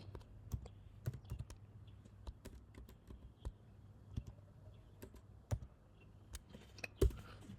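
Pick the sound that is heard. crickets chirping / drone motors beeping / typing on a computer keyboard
typing on a computer keyboard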